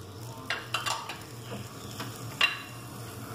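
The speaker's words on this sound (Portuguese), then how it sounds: "depois que o alho fritar aqui, bem fritinho" Garlic frying in hot olive oil in a clay pot, a soft steady sizzle with a few light stirring clicks and scrapes, close and alone with no talk.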